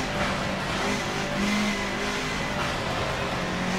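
Car engine roaring in Forza Motorsport 7, a steady loud engine drone heard from a first-person driving view, with no talking.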